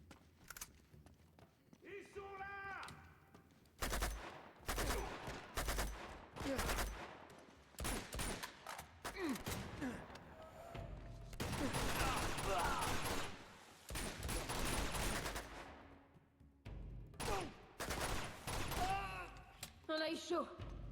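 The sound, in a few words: gunfire in the video game Uncharted 2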